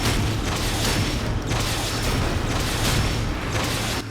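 Tank rolling in GI Joe: Rise of Cobra, a steady loud mechanical rumble with low droning hum and clanking texture, continuous throughout with brief surging accents.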